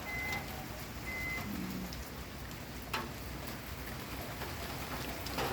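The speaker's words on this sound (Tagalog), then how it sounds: "Maulan ngayon dito sa Imus." Steady rain falls on a garden in Imus, a dense, even hiss of drops hitting surfaces with a few louder splashes and a faint distant beep.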